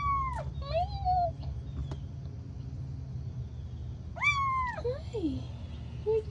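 A kitten trapped in the engine bay of a Toyota Prius in Tampa, Florida gives a few high, rising-and-falling meows near the start and again toward the end, close by, over a steady low rumble.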